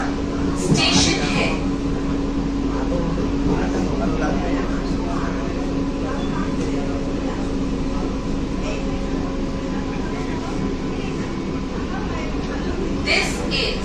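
An EMU fast AC local train runs between Kalyani and Kanchrapara on the Ranaghat to Sealdah line, a constant rumbling drone with a faint air-conditioning hum and a few brief clatters, heard from inside the coach.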